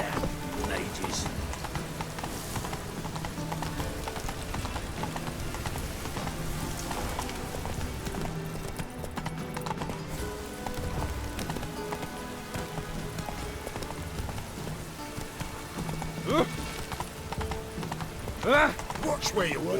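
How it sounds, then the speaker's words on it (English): Steady rain in The Witcher 3: Wild Hunt, a continuous hiss of drops on the ground beneath clip-clopping horse hooves, with game music and a spoken voice over it throughout. "Rain again."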